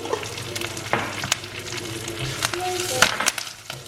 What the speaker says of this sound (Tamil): நல்லா செவப்பாக வறுத்தாச்சு நம்ம உளுந்த